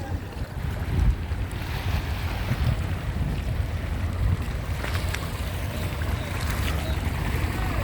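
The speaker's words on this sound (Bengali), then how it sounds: "খরস্রোতার ঢেউ আপনারা দেখতে পাচ্ছেন" Rushing water and waves from a strong river current at Nalchiti Ghat, Hatia, under a steady roar of wind buffeting the microphone.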